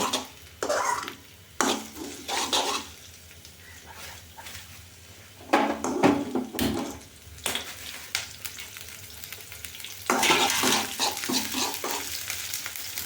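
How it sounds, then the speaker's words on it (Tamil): Curry leaves frying and being stirred in a hot pan while beetroot rice is prepared, with a steady sizzle broken by bursts of spatula scraping and clatter, close and moderately loud, no talking. "கூடவே 2 கருவேப்பிலை போடுறோம். போட்டோமா அடுத்தது ஒரு வதக்குறோம்."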